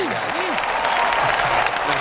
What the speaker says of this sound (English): let's welcome Nathan Wallner to the studio. Big round of applause